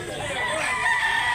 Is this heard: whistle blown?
no